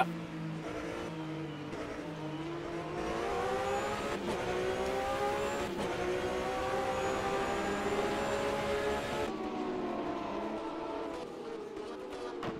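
Porsche GT race cars circling a circuit, several engines droning and revving together with rising and falling pitch as they pass, steady and fairly distant, no talk.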